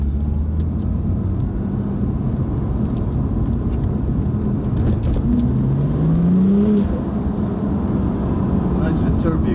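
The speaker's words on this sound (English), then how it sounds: "Nice with turbo, you could hear the turbo whine." A stock Porsche 911 Turbo (997) accelerates through Stockholm city streets, its low engine drone steady under cabin noise while a faint turbo whine rises briefly in the middle.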